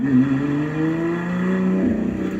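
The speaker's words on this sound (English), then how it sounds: "This is the latest thing from Lotus, the EVORA 400 Sport." A Lotus Evora 400 Sport engine revving close by, its strong, even tone rising steadily in pitch as the revs climb over a couple of seconds.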